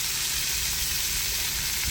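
Food fries in maple-tinged bacon grease at a campsite, a continuous dense sizzle and crackle, close and steady with no talking.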